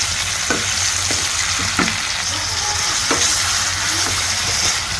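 Hilsa fish head frying in hot oil with onion, green chilli and salt, a loud, steady sizzle with occasional stirring scrapes throughout.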